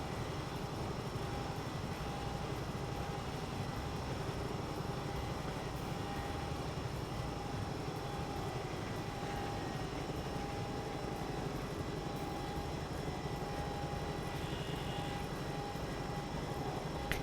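A Bell 222 helicopter in the X-Plane 11 flight simulator gives a steady, continuous turbine and rotor drone that stays loud and even from start to finish, with a thin high whine on top.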